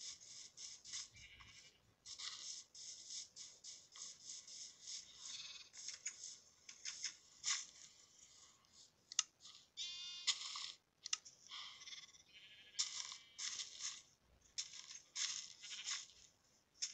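Sheep bleat in the video game Minecraft, with repeated shrill, buzzy calls over a busy, continuous stream of game sounds. The sound is fairly faint throughout and no one speaks.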